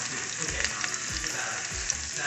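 Mushrooms fry in hot vegetable oil in a pan with a continuous close sizzle and scattered crackling pops. The level stays moderate throughout.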